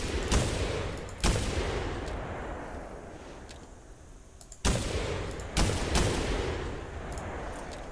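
Booming shots from a Maisto semi-auto shotgun in theHunter Classic ring out close and loud, four or five blasts in two clusters, each trailing off into a long echoing decay.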